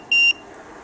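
An EMF meter beeps as its reading reaches the red zone: a single short, bright electronic tone lasting about a fifth of a second, loud and clear over faint room hiss.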